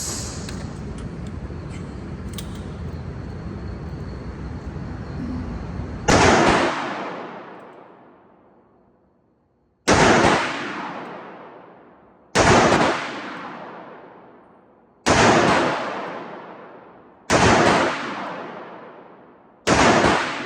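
A 1980 Ruger Blackhawk revolver fires .30 Carbine rounds outdoors, six loud single cracks spaced about two to three seconds apart, each ringing off into a long echoing decay.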